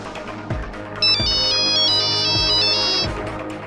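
A telephone ringtone plays during a call, a bright repeating electronic melody that rings loudly for about two seconds over low background music with soft rhythmic thumps.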